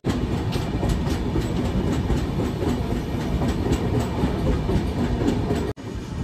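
A passenger train rolls through Rangapani station toward New Jalpaiguri, heard from on board as a loud, continuous rumble with a rhythmic clickety-clack of wheels over rail joints, cutting out abruptly near the end.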